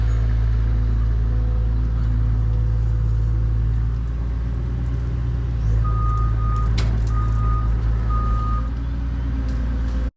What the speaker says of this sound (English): I have to back the truck up.